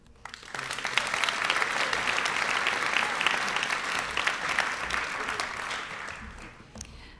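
A senior class night audience applauds in a school setting. Many hands clap in a full, steady wash that rises fast and holds at a moderate level, with a faint voice near the end.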